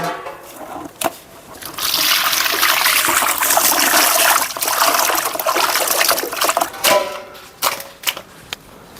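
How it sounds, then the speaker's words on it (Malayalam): Beef being rinsed under a running kitchen tap, a steady close trickle and splash of water with brief handling knocks, no talking. "അപ്പോൾ നമുക്ക് നമ്മുടെ ബീഫ് ഒന്ന് കഴുകിയെടുക്കാം."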